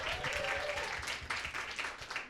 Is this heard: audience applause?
yes